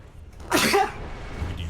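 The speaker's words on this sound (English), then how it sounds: "Gonna sneeze again." A single sharp human sneeze bursts out close to the microphone during a Dota 2 match broadcast, followed by quiet room noise.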